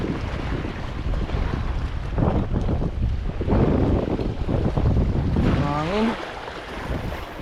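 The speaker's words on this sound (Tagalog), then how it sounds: "Masyadong mahangin ngayon" Strong gusts of wind buffet the microphone on a coast during fishing, a steady roaring rush with surging peaks and a brief whistling tone near the end.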